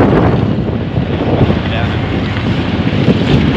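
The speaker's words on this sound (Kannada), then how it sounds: "ಗಾಳಿ" Strong wind blows steadily outdoors, roaring into the microphone as one loud, constant rush for the whole stretch.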